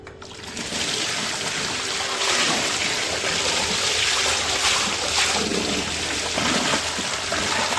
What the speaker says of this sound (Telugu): ఇప్పుడు ఈ మజ్జిగలో నానబెట్టుకున్న కందని శుభ్రంగా కడిగేసుకుందాం నీళ్ళ కింద